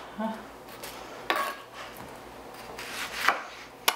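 Kitchen sounds during home preparation of beef stroganoff: scattered knife chops on a board, clinks of pots and utensils, and soft rubbing, quiet and intermittent with sharp taps near the end.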